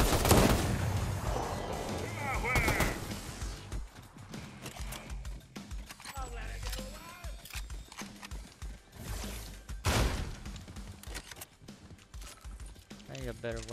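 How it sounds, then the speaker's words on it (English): Sniper rifle shots in Fortnite: a few sharp, loud cracks spaced several seconds apart, mixed with busy game effects and a voice in the background. "I need a better weapon than this sniper rifle."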